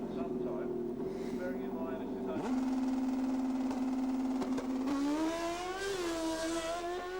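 A 1260cc Star Racing-powered Pro Stock drag bike engine holds a steady, loud buzzing drone, then its pitch rises in a climbing rev near the end, with crowd or background noise underneath.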